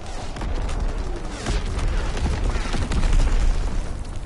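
Incoming enemy artillery in the Call of Duty WW2 video game, a dense rumbling barrage of booms and crackling blasts, loud and sustained with no pauses.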